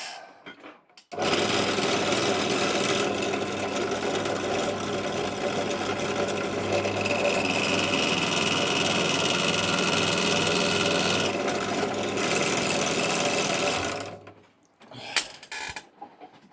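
A bench drill press runs steadily at close range for about thirteen seconds while a wheel is fixed onto a Lesney Matchbox Daimler bus model, then winds down and stops, followed by a few light clicks.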